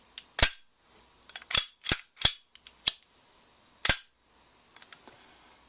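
A Walther P22 pistol's action being cycled makes a series of sharp, close metallic clacks, about seven or eight in uneven groups, each short and crisp against near silence.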